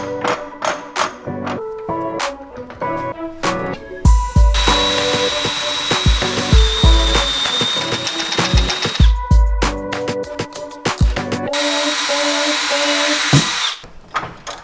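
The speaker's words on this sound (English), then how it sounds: "what I'm going to take is a spade bit right here to increase the countersink hole here" A power drill turning a spade bit to widen a countersink hole in a Jeep Wrangle bump stop extension part, whining in long loud runs between bursts of clicks and knocks, with no talking.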